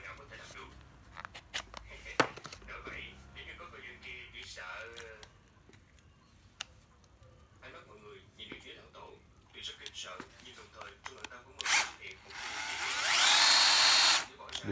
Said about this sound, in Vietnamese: Mười bảy là một con máy khoan xích 12V.